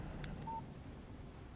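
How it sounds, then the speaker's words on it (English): A phone text message alert chimes in the Alan Wake video game, a short electronic tone pattern at moderate volume against a quiet background. "Text message from Barry."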